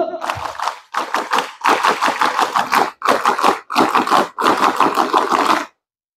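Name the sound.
Scout group doing the two-clap Pramuka clap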